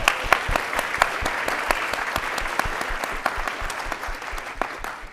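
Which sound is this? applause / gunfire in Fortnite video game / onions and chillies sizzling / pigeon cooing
applause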